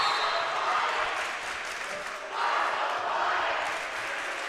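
Crowd at a high school boys basketball game at St. Mary Springs cheering and applauding, a broad steady roar that swells midway, heard from within the gym with some voices mixed in.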